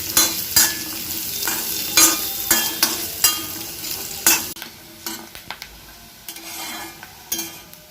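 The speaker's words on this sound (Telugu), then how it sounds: "తర్వాత కొబ్బరి ముక్కల్ని ఈ నేతిలో వేయించుకొని ఉంచుకోవాలి." Coconut pieces frying in ghee with a steady sizzle, broken by repeated sharp scrapes and clinks of a spoon stirring against the pan, close and fairly loud, with no talking.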